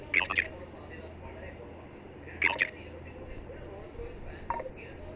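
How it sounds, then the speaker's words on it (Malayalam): A Samsung phone plays short ringtone preview chimes from its settings menu: three brief electronic tone bursts spaced about two seconds apart over a quiet room hum. "ഇനി നമുക്ക് റിംഗ് ടോൺ ഏതെങ്കിലും ഒന്ന് എടുക്കാം"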